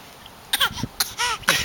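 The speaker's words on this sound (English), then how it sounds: "Do you have a cough?" A woman gives a fake cough, a few short, close throat-clearing bursts with voiced, slightly whiny tones.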